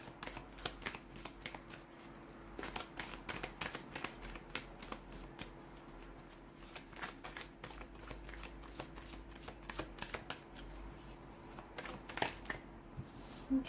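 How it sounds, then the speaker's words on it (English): Tarot cards are shuffled by hand, soft repeated riffling and slapping of the deck close to the microphone, a quiet irregular patter over a low steady hum. "let's go ahead and give the cards a shuffle"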